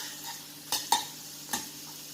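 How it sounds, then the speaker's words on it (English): Salt and chili powder are sautéed in a pan, producing a few quiet, brief spoon scrapes and taps against the metal with short gaps between them. The sound is close and faint, with no talking. "Next I'm going to add chili powder and nicely saute it."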